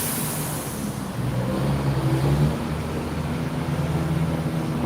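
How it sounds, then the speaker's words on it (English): A loud delivery truck rumbles past on a busy city street, its deep engine drone swelling midway and then easing off, heavy and fairly close, with a steady roar of street noise around it. "The truck is real loud, sir."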